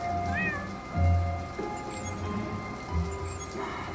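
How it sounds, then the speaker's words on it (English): In the Poptropica video game a cat meows a few times, short and fairly clear, over a steady hum of background sound with low thuds. "I hear a cat."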